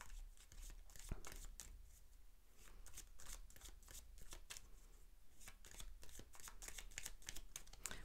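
Tarot de Marseille cards being shuffled close up, a rapid run of crisp riffling and slapping bursts repeating steadily throughout, quiet and without speech.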